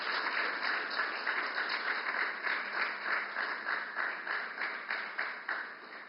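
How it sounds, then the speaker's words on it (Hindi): An audience claps steadily at an inauguration ceremony, a dense, even wash of applause heard from some distance that carries on without a break. "तालियां की गूंज आती रहे।"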